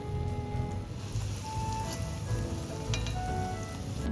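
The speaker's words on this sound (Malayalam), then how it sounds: "നമുക്ക് ബ്രെഡ് ഓരോന്നായിട്ട് വറുത്ത് കോരിയെടുക്കാം" Slices of bread deep-frying one by one in hot ghee until light golden brown for Umm Ali, a steady close crackling sizzle with faint pops throughout, no talking.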